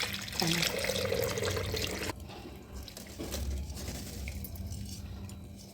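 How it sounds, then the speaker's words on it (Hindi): Homemade pure ghee is poured through a kitchen strainer, a close liquid trickle and splash with a faint metallic clink, which thins to a quieter pour partway through. "ये घी निकल आया है, स्ट्रेनर से मैंने छान लिया है"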